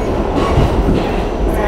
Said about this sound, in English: So this is the NYC Subway.